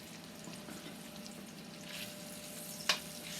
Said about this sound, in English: You hear a little sizzle there.